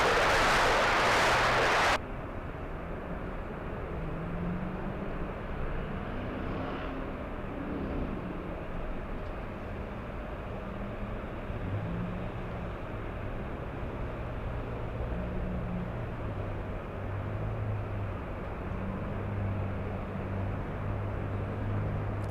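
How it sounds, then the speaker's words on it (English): A Southwest Airlines jet lining up on runway 24 left at LAX, a distant, steady low engine rumble heard alone over the airfield without talk. "All right, Southwest 3847 flying to Austin, Texas, lining up."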